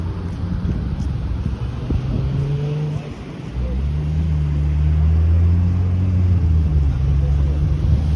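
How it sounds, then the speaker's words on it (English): A truck passes along a North York street in Toronto, its low engine rumble swelling and holding steady over several seconds, mixed with wind noise and general traffic. "Truck."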